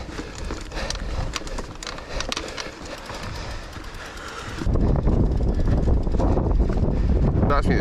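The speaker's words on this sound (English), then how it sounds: "It's pretty windy at the top, so audio might be pretty poor" Strong wind buffets the microphone on an exposed mountain hilltop during a mountain bike ride at Pitfichie, a steady broadband roar that grows louder and heavier partway through with no speech.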